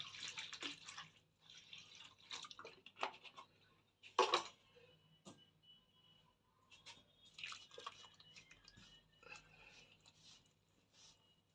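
Tap water trickles and drips in small irregular bursts onto bread dough made with coarse wholemeal flour, quiet and close with brief gaps between pours.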